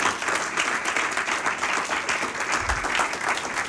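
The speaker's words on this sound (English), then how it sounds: "So let's welcome Joel Netshitenzhe." An audience at a public lecture applauds steadily, a dense wash of clapping that holds at an even level from start to finish with no voices.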